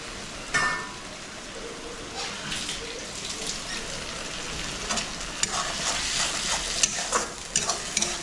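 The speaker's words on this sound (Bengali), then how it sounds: "এখানে আমার পেঁয়াজ অলরেডি ভাজা হয়ে গেছে মোটামুটি। এবার আমি দিয়ে দেবো মশলাটা" Onions and spices sizzle in a frying pan, a constant crackling hiss broken by scraping stirs and occasional sharper spatters.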